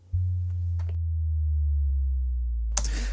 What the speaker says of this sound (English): I just got a really simple sine wave and pitched it down over a period of time.